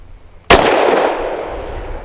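A single loud gunshot from a custom Sig P320 pistol firing solid copper bullets at a range, with a sharp onset and a long ringing decay and no voices.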